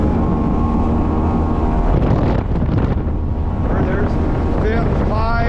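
A 2004–2005 Ranger bass boat's Mercury 225 outboard runs steadily and loudly throughout, with heavy wind buffeting and water rush over the motor's drone; someone speaks briefly.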